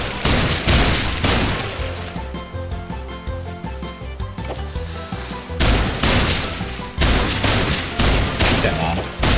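Rapid gunfire bursts from a VR shooter, Dick Wilde 2 on PSVR played with an aim controller, cracking in dense clusters over a pounding music track, with a brief lull midway before loud volleys resume.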